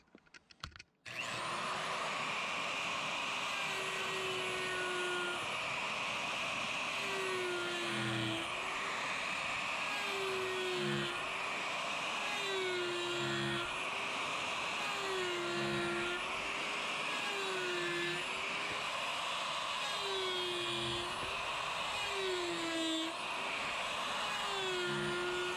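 A rotary tool fitted with a cross cutter bit carving a small wooden owl: a loud, sustained high whine with rhythmic dips in pitch as the bit bites into the wood, close and continuous, with no talk.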